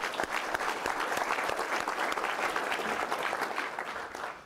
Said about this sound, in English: If you guys would please join me in giving them a round of applause.